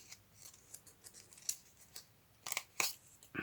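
Scissors snip repeatedly through paper or card while trimming pieces off a Tim Holtz folio, a series of faint, quick crisp cuts with a few louder snips near the end.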